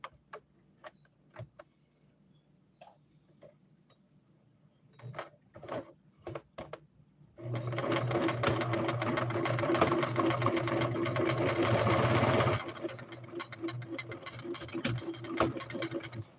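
A sewing machine zigzag stitches a catnip pillow, running in one loud steady whir for about five seconds in the middle, framed by scattered handling clicks and rustles before and after.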